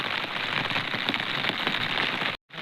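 Heavy rain pours steadily onto a surface outdoors near a cattle shed during a downpour, a dense continuous hiss close by that cuts out briefly near the end.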